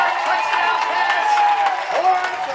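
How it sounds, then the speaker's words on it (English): A high school football crowd roars and cheers after an Upper Dublin touchdown, a loud sustained wash of voices in a stadium with a few sharper shouts near the end. "The crowd is excited"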